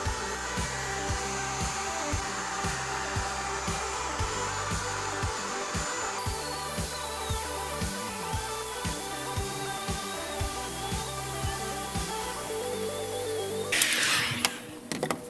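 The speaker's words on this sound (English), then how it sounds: "I am actually going to try and do the whole length all at once with the heat gun." A heat gun warms a length of PVC pipe for making a bow, blowing with a steady, loud whirring roar throughout. A brief clatter and rattle come near the end.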